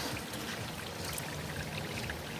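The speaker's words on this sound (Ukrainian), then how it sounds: "тому можна буде закладати рис. Беремо рис." Rice poured into a pilaf pot over a campfire outdoors, a continuous close, grainy rushing patter lasting a couple of seconds with no talk.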